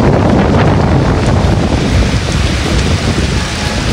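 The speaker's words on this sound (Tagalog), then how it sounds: "Ayan po ang malakas na ulan." Heavy rain pours steadily with strong gusting wind buffeting the microphone during a typhoon under signal number 4 in Infanta, Quezon, a loud, dense, continuous roar with no voices.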